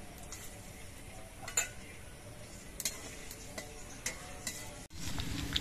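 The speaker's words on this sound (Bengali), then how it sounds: "ঘিটা গরম হয়ে যাওয়ার পর এই কাজু কিশমিশ গুলো আমি প্রথমে ভেজে নিচ্ছি" Cashews and raisins fry in hot ghee, with a quiet, steady sizzle beneath repeated light metallic scrapes and clinks of a spoon against the pan, before a brief break and a slightly louder, fuller hiss at the end.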